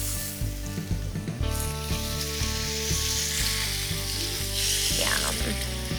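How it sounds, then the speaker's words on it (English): Steak sizzling loudly in a hot pan just after being flipped, a dense continuous crackle with a few sharp pops and clinks from the pan. "It's been 4 minutes, so I'm gonna flip my steak."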